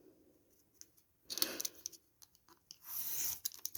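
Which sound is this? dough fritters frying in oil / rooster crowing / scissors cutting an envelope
scissors cutting an envelope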